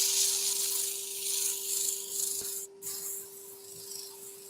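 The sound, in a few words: sanding a wooden hummingbird with 120 grit sandpaper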